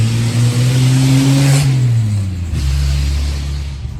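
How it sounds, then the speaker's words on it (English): An antique car drives past close by. Its loud, steady engine hum drops in pitch as it passes, then fades into a lower rumble, with no talk. "that was some cool antique car"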